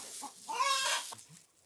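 Hens on a rural farm in Hongcheon, Gangwon, cluck while laying eggs: a few close, clear clucks and calls rise and fall over quiet background, with no talking.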